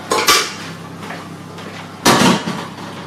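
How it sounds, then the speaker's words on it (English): Dishes clank while someone cleans up in a home kitchen during meringue making: two sharp, loud clatters about two seconds apart, with softer knocks in between. "I'm sorry about all the clanking, but I need to clean up as we go"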